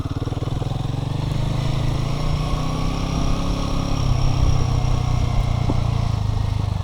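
A motorcycle engine drones steadily and close up during a solo adventure ride, a low rumble that swells slightly as the throttle changes.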